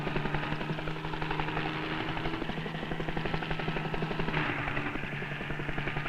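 A helicopter flying over a zebra roundup gives off a steady, loud rotor chop and engine drone that pulses evenly throughout, with no speech.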